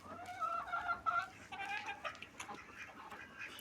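Farmyard fowl give a run of nasal, repeated clucking calls, fairly close and moderately loud, with scattered rustling and other bird sounds continuing afterward; no clear talk.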